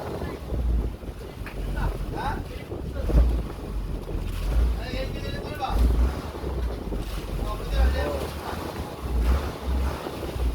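Diver's motor boat running at 19 knots over waves, a steady low engine drone mixed with wind buffeting the microphone and water splashing, with voices talking over it.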